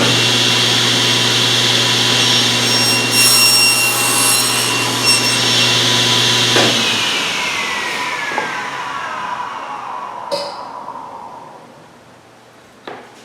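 A table saw runs loud and close, cutting a dado in a scrap piece of wood with a steady whining drone. The motor then cuts off and winds down slowly, with a couple of faint knocks near the end.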